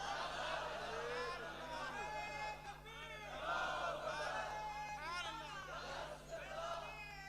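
A crowd at a Sufi religious gathering chants slogans loudly in repeated rising call-and-response waves of many voices, near and energetic.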